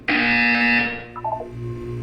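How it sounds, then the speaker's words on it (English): A buzzer sounds in the Portal video game, a loud, steady harmonic tone lasting about a second, then dropping into a softer, lower electronic hum. "You will hear a buzzer."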